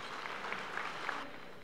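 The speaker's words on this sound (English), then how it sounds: "A round of applause for that." Applause from an indoor audience at a community event before a mayor's speech, steady clapping throughout at moderate distance, easing off slightly at the end.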